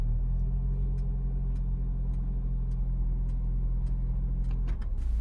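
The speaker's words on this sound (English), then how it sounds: "The engine continues to work." A 2019 Lexus RX300 engine idles steadily with a low, constant rumble and faint periodic ticking in a multi-story car park, then the tone shifts near the end with a few clicks.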